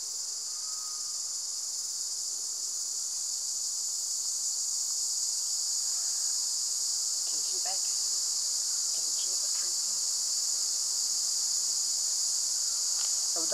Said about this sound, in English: That's the cicadas.